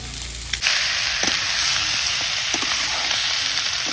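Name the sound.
meat frying in a pan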